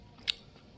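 A single crisp bite into chitoi pitha, a Bengali rice cake eaten with jaggery, lands as one short crunchy snap close up, followed by quiet.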